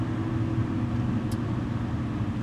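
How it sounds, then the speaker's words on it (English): Steady low road rumble from inside a moving car in city traffic, a continuous engine and tire drone with one faint high blip near the middle. "Sorry, traffic."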